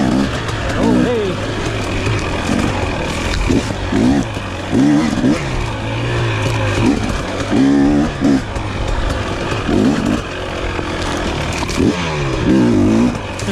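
A 2023 KTM 250 XC dirt bike engine lugs in third gear with low, uneven pulses and clatter that rise and fall in short bursts, close and loud, with talking over it.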